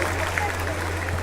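Crowd at a sports opening in Tamazulapan del Espíritu Santo applauding a donor, a brief, dense spatter of clapping over a steady low electrical hum, with voices in the mix.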